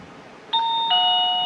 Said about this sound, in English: I'm going to go ahead and press the bell button on the outdoor unit